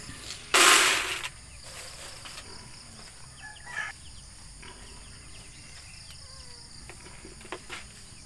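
Pigs at feeding time squeal and grunt, with one loud, harsh squeal near the start, then quieter snorts over steady insect chirping and a few distant bird calls.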